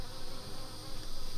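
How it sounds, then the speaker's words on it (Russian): Honey bees buzz at an apiary beehive in a steady, close, fairly faint drone that pulses slightly, with no one talking. "Итак, попалась одна пчела."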